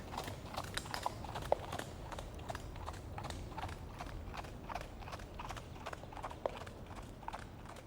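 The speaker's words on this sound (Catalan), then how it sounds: "Era el cavaller Sant Jordi, galopant des de terres llunyanes en busca del drac." Hooves of a horse galloping, a quick, regular clip-clop rhythm heard faintly and at some distance over a low background rumble, with no voices.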